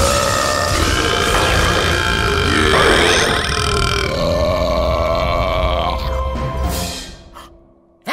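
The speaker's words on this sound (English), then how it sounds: "I call it the Blinding Beauty Belch." A long, loud, exaggerated cartoon belch rumbles for several seconds with shifting pitch and gurgling texture, trailing off at the end, from an animated Madballs kids' movie.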